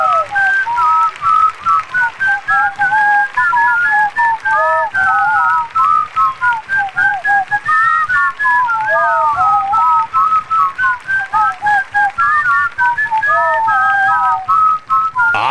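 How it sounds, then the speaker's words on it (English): A person whistles a classic rock tune alone, a clear, close melodic line of sustained and sliding notes with short breaths between phrases. "Hear your favorite classic rock tunes. Whistled."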